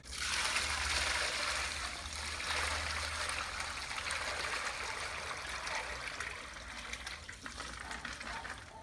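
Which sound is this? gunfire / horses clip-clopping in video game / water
water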